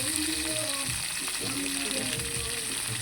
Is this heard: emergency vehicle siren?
no